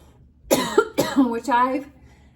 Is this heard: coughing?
yes